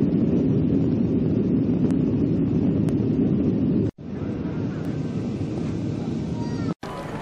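Steady broadband roar of a passenger airplane cabin in flight, loud and continuous with a low rumble, briefly cut twice.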